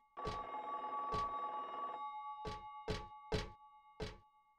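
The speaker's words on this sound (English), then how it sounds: "Some locker is ringing." Old-style telephone bell ringing from inside a locker in the horror game Scary Hospitals 3, a sustained metallic ring followed by a series of short separate rings with brief pauses, faint and alone.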